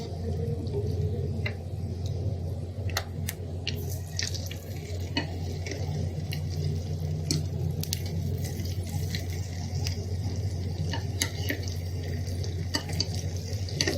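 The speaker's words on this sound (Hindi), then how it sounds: "अब मैं इसमें चिकन फ्राई करूँगी।" Marinated chicken pieces frying in hot oil in a home kitchen for restaurant-style chicken Manchurian, a steady close sizzle and bubbling with scattered sharp crackles and pops, no talking.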